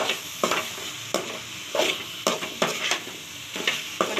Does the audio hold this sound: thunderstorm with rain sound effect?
no